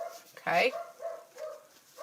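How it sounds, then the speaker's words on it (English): A dog barks once loudly at something outside, a single sharp bark followed by fainter yips, with brief speech nearby. "Sorry about the dog."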